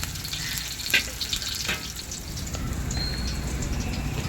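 Capsicum and green chillies fry in a pan for chicken fried rice, giving a continuous close sizzle with a couple of brief clinks near the start and no voices.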